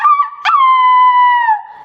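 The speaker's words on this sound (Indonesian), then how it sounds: "ketika ayam berkokok" A rooster gives one loud, close crow. A short broken opening leads into a long sustained note that slides down and fades at the end. No voices are heard.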